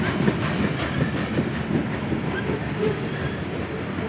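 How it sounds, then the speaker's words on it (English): A train rolls along railway tracks with a steady rumble and rattling clatter, faint high squeaks rising above it, heard close with some wind buffeting the microphone. "I hear some strange squeaking noise."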